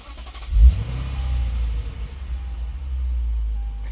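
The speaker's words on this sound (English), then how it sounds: "let's get out of this parking lot, let's get on the road, and let's make some noise in the IS500." A Lexus IS 500 engine on a road drive in a church parking lot, starting with a sharp blip then settling into a steady, loud low rumble that holds close and even throughout, with no one talking.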